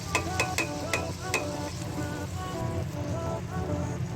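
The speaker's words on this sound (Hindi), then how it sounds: "हमने ऑयल डाल के तकरीबन 4 से 5 मिनट इसको ऑयल में थोड़ा भुना" Black chickpeas fry in oil in a pan, with a steady crackling sizzle and a few sharp metallic scrapes and clinks of stirring near the start.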